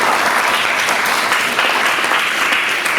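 Dense, steady applause from a crowd at a high school quiz competition quarterfinal, sustained evenly for the full three seconds with no voices over it.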